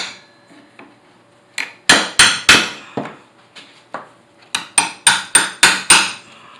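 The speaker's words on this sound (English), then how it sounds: "take the chisel and kind of give it a pop here and there" Hammer striking a chisel against old pallet wood to distress it, a series of loud, sharp metallic-woody taps: a scattered few, a quick cluster of three, then a steady run of about six close, evenly spaced blows.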